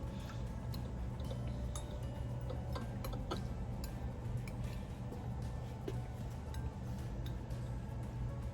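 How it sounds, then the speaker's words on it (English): A spoon stirring in a cup of tea, giving light repeated clinks and ticks against the cup, close but faint over a steady low background hum, with no talk. "so let's give it a little stir."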